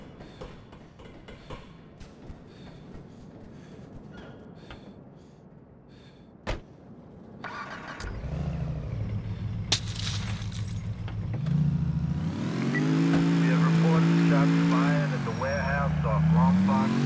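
A car in the video game GTA 4 starts up and drives off, its engine droning steadily and rising and falling in pitch as it revs, with clicks and a door thud just before.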